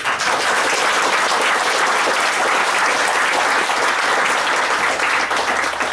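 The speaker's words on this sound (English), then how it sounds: "So big round of applause, please." A big round of applause from the audience at a Fighting Fantasy fan convention art panel, loud continuous clapping that stays even and dense from start to finish.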